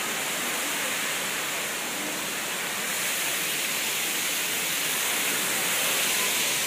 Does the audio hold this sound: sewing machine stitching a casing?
no